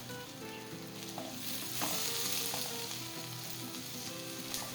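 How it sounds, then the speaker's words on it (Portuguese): Chopped onion sautés in a pan with a steady, close frying sizzle, broken by a few light stirring clinks, with no voices. "Acrescento uma cebola grande picada e volto a refogar"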